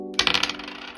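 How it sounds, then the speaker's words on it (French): A small die is shaken in a little pot and tumbled out, producing a short, bright rattle of hard clicks and taps that settles quickly, close up with no talking. "Je vais brasser le dé"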